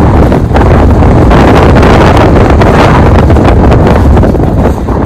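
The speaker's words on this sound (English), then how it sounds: "We estimated the winds were pushing 80 miles an hour" Strong gusts of roughly 80 mph rush across sharp, rocky Alaska mountain terrain and snow fields, a loud, continuous roar buffeting the microphone throughout with no voices.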